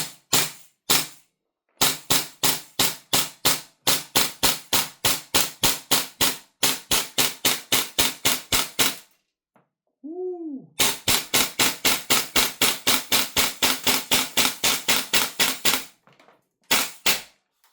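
Marksman IX AR9 gas blowback airsoft rifle fires long strings of rapid, evenly spaced sharp cracks, each with a mechanical clack of the blowback. Several bursts are split by short pauses and end with a couple of single shots.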